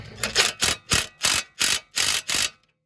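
A ratchet tightens a sway bar link on a 2009 Dodge Caravan in seven even, loud clicking strokes, close up, ending in silence.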